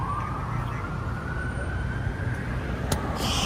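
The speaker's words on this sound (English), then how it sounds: "Now I'm hearing an ambulance." A siren wails on a downtown Los Angeles street, a single slowly rising tone that sounds moderately distant over steady traffic rumble, with no talk.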